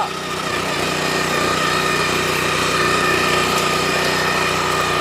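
A small 9.5 hp Japanese petrol engine runs steadily at a constant high-pitched drone, loud and close, without speech.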